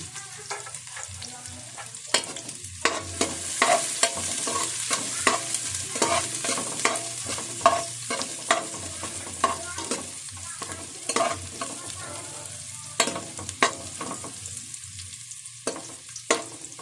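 Garlic and onion sautéing in a hot pan for a pares mami dish: a steady, close sizzle broken by frequent scraping and clacking stirs, with no talk over it.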